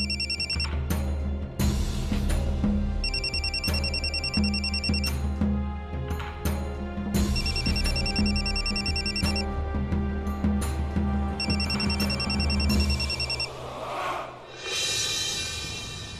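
A telephone rings with a repeated high electronic tone in regular bursts over a busy background in a Marathi TV drama scene, the call coming from a girl's father; the ringing stops near the end.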